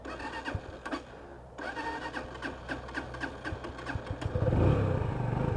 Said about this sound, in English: So we're going to start this one up.